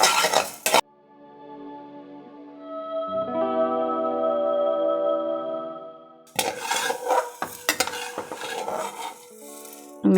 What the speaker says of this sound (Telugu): ఇప్పుడు మెంతులు వేపుకున్నామండి.